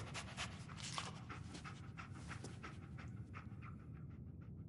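A dog pants rapidly and steadily throughout, close up, with a low rumbling background underneath.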